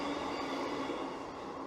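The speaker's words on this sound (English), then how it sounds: "another train." A train passes close by the site of the lost Hunslet station, a steady loud roar of wheels and rumbling carriages that fills the whole clip without pause or speech.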